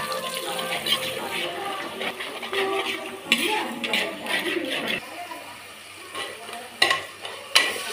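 A ground paste of pepper, cumin, ginger, garlic and shallots stirred and sautéed in hot oil for chicken gravy, with steady sizzling and frying plus scraping stir strokes and occasional clinks of the spoon against the pan.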